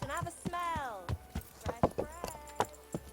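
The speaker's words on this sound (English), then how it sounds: "It's a horse called Jerick." Jerick, a horse in the Kingdom Come: Deliverance video game, walks with a steady clip-clop of hooves, close and distinct, under a stretch of talking.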